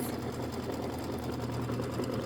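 A Kimberbell embroidery machine stitches a decorative hot pad with a rapid, steady mechanical whirring and needle chatter, close by and uninterrupted.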